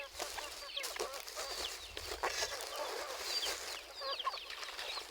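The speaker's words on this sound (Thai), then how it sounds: "เป็ดไก่ก็มาเห็นไหม" Chickens clucking outdoors in a rural Thai setting, several birds giving soft, scattered clucks and calls over a low background hum, no one talking.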